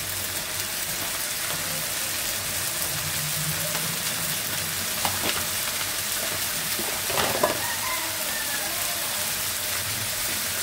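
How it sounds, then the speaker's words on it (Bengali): Vegetables frying in mustard oil with green chili and onion: a steady, even sizzle with faint crackles and a few stirring scrapes, with no talk over it. "এখন ভাজিটা চুলাই দিয়ে দিচ্ছি।"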